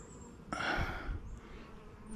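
Honey bees buzz steadily during a hive inspection, a close, dense drone that swells suddenly partway through, with a few soft bumps and handling noises mixed in.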